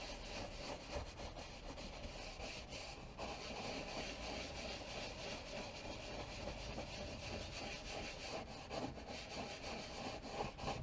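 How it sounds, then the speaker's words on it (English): A cleaning brush scrubs the leather seat of a 2017 Jeep Wrangler Rubicon Recon, a steady close-up rubbing and bristle scrape that runs without pause, with no talk. "Just gently remove dirt and grime from the top of the leather."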